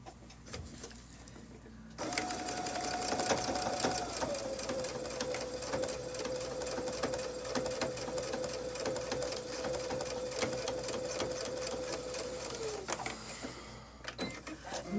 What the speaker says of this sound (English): let me sew this up